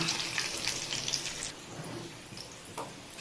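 Green chillies and peanuts sizzling in hot oil in a pan for upma: a faint, steady crackling fry with light spattering, heard alone.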